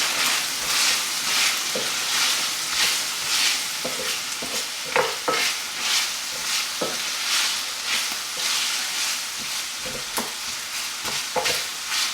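Chopped onion frying in an Instant Pot for fried rice, giving a steady broadband sizzle with repeated scraping and stirring clicks from a utensil, close and continuous throughout, no voices.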